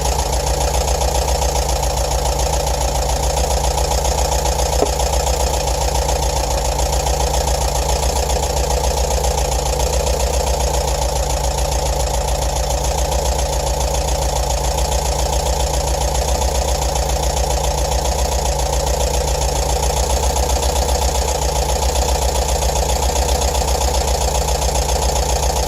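The engine of a bus idles steadily and close up during a mixture adjustment, a constant low rumble with a faint rhythmic knock, unbroken and even in loudness throughout, with no talk.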